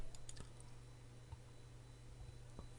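Typing on a computer keyboard, with a few soft, scattered keystrokes and clicks at low level over a steady background hum.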